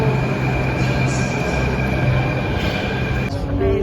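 A Delhi Metro train hums and rumbles steadily nearby, with a sustained electric whine and a brief shift in tone near the end.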